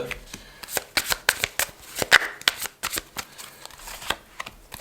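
Tarot cards are shuffled and laid out on a surface in quick close riffles and slaps, a series of sharp crisp bursts with short gaps between them.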